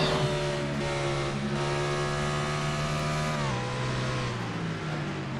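In-car engine of the number 20 Home Depot Pontiac in a stock car racing video game, a loud steady buzzing drone that drops in pitch midway as the car brakes for a turn.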